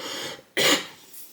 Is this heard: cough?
yes